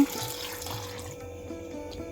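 Water pours briefly into a grinder for ash gourd paste, a soft, short trickle and splash.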